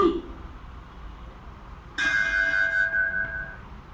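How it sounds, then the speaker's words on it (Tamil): A single strike of a Hindu temple bell in Tamil Nadu, India, rings out clearly and sustains with a bright, shimmering tone that slowly fades over a low background hum. "ஸ்ரீ உச்சி மாகாளி அம்மன் திருக்கோயில் மணியோசை"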